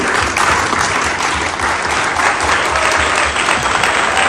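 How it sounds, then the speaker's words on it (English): Dense, steady applause from a crowd at a family celebration for baby granddaughters after a Konkani toast song, loud and continuous for the whole stretch without pause. "I think that deserves another little round of applause,"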